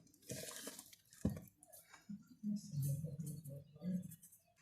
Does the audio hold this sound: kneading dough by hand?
yes